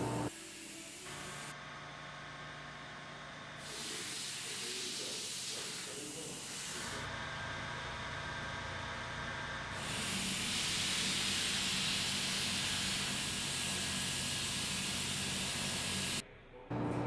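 Spray foam insulation sprayed onto a brewery freezer wall, a steady loud hiss that runs on for long stretches, stopping and restarting between passes and swelling louder toward the end.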